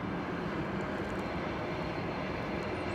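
A plane at DFW Airport in the morning, a broad steady jet engine roar at moderate distance, constant and unbroken with no voices.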